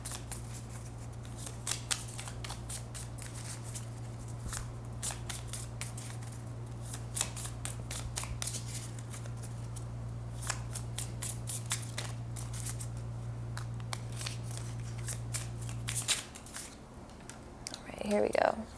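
Tarot cards handled and laid out on a table at close range, with a steady run of soft flicks, snaps and shuffling taps over a constant low hum, no talk.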